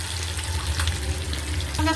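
Pangas fish fries in oil in a pan, a continuous close sizzle with a low bubbling undertone and no voices.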